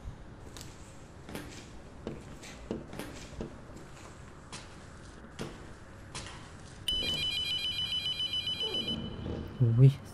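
Telephone rings in a horror video game, an electronic bell tone starting partway through and repeating in a steady pattern for a couple of seconds over quiet ambience, footstep-like knocks and a voice talking.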